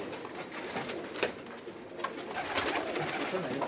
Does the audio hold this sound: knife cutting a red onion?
no